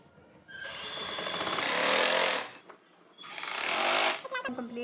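A sewing machine runs in two loud, steady bursts with a short pause between them as it stitches the flared hem of a small child's frock. It is close and mechanical, and a voice is faintly present.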